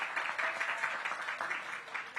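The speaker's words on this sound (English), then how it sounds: "Give Ebony Rose a big round of applause" Brief applause for Ebony Rose at a back-to-school night ribbon-cutting, with many hands clapping in a dense, steady patter at moderate distance.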